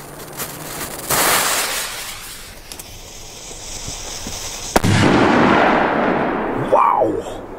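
A loud Dumbum 5G firecracker, a Polish banger, bangs sharply, followed by a crackling burst and a voice reacting nearby.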